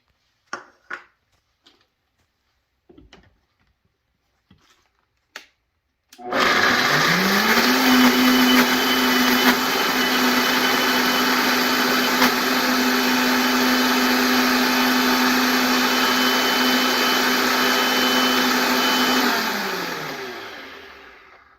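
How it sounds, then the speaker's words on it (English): After a few light clicks and taps, a blender whirs up and runs steadily for about thirteen seconds, blending ingredients with added lemon juice for a broccoli burrito filling, then winds down, loud and close. "And to this, we are going to add our lemon juice. And we're going to blend."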